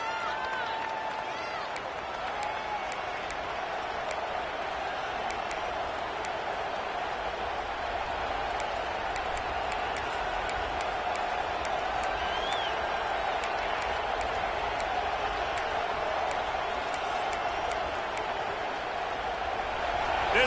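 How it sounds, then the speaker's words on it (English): Crowd roar in a college football stadium during a Penn State versus Ohio State game, a constant wash of distant cheering that runs throughout, with a commentator talking over it. "This crowd trying to make life miserable for this offense."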